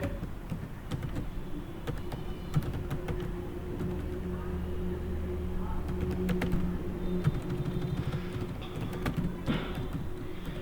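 Scattered clicks and taps, like typing on a computer keyboard, run over a steady low hum, irregular and fairly close.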